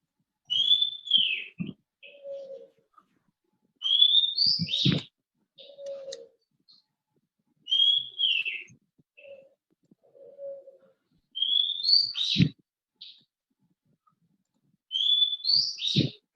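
Birds chirp and coo outdoors in short, separated bursts of whistled and cooing calls with quiet gaps between them, faint and moderately distant.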